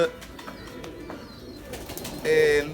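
A Sialkoti pigeon coos softly a few times, with a clearer, louder coo near the end, amid quiet background noise and someone speaking.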